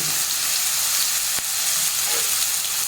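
Makhana (lotus seeds) roast steadily in a pan with salt and garam masala, giving a continuous bright sizzle and frying hiss, loud and close, with one sharp click of a stirring utensil against the pan.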